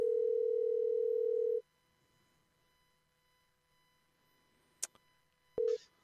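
A telephone dial tone holds steadily for about a second and a half on a radio show's call to JD Tuccille, then cuts off. A near-silent line follows, broken by a click and a short blip.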